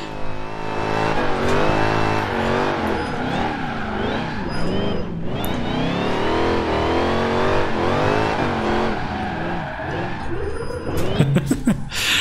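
Car engine in the Forza Horizon 4 racing game, a stock untuned car on a slope, revs and drives steadily with loud, continuous engine tone rising and falling throughout, ending with a few sharp bursts.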